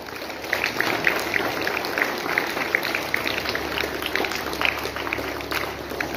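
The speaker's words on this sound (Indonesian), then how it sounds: "Tepuk tangan untuk madrasah aliyah negeri" Applause from an audience at a Ministry of Religious Affairs gathering in Malinau, honoring a state Islamic senior high school, a steady dense patter of many hands clapping at moderate volume throughout.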